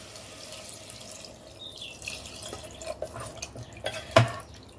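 Water is poured into a mutton curry cooked with tender tamarind leaves: soft trickles and drips build into a brief splash near the end, faint and close, with no speech.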